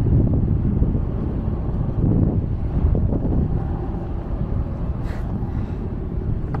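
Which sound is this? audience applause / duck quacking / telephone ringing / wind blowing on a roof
wind blowing on a roof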